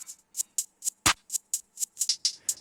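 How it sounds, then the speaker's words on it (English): Reversed hi-hat hits swell into each stroke in a fast, even pattern in an ambient type beat, with one heavier clap-like hit in the middle. Crisp, close and alone. "And then I have this reverse hi-hat, which like kind of complements the original hi-hat."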